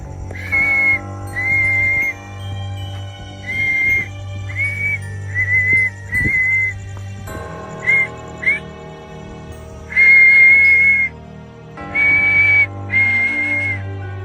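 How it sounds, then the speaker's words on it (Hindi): Loud whistle blown repeatedly at night in a deserted area, sharp sustained blasts in irregular bursts against a low steady hum, with a short sharp knock midway. "मैं ज़ोर ज़ोर से सीटी वगैरह बजा रहा हूँ"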